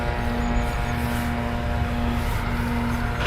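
RAF Eurofighter Typhoon jets taxi at RAF Coningsby, a steady, close engine drone with a sustained whine and low rumble that holds at constant level throughout.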